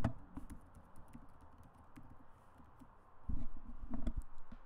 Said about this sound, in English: So type in your password.